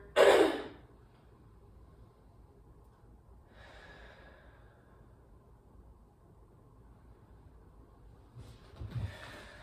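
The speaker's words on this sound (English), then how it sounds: "Take a couple breaths here." Breathing during a pulmonary rehab exercise session, with a sharp close inhale at the start, a softer breath near the middle and another breath toward the end, faint in a quiet room.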